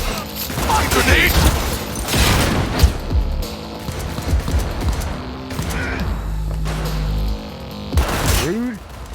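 A grenade blast and heavy gunfire in a PC shooter game: loud, dense bursts of shots and booms with mechanical clatter, while character voices call out over the din.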